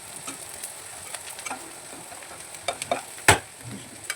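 Onions and four green chillies frying in a pan while being stirred: a soft continuous sizzle with scattered light scraping clicks and one louder clatter near the end.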